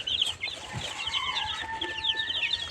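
Hens cluck in quick, repeated bursts on a livestock farm, several birds calling close by with a steady background hum.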